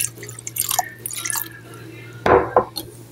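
Half a cup of water goes into a bowl of rice flour batter with baking powder and oil. Light drips and clinks lead to a short, close splashing pour, and a faint steady hum runs underneath.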